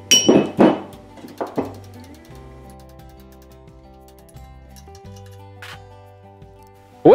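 A hammer strikes a punch on steel: several sharp metallic strikes ring out up front, then a long stretch of quiet ringing tones follows, ending with another abrupt loud hit.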